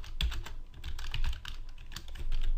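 Code being typed on a computer keyboard for a Unity C# script: rapid, close key clicks in a steady flurry with no talking.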